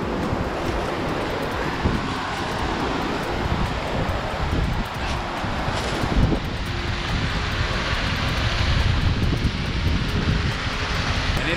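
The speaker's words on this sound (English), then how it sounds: "The wind does not help at all." Chilly wind roars steadily in the Catskill Mountains, buffeting the microphone with constant broadband rushing, loud and close throughout.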